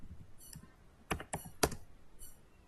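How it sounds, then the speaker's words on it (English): Computer keyboard being typed on while writing an email gives a few soft, quick clicks in small clusters, faint and close. "Okay, and we can type anything."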